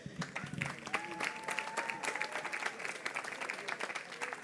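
An award ceremony audience applauds, a lively crowd clapping throughout with irregular bursts, mid-distance, while a faint voice is heard partway through.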